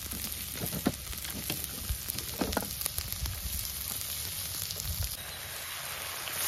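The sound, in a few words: garlic and onion frying in a little oil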